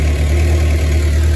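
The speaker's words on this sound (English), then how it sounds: "now the bike is on, the engine is warming up and rotating the system" A 1998 Suzuki GSX-R 750 SRAD motorcycle idles while warming up during service, a loud, steady, close low rumble with an even throb and no talking.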